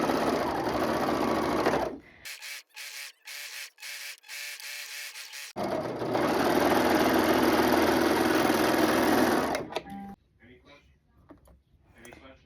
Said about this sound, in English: I want to see the bottom when I sew, so I know that I'm sewing the bottom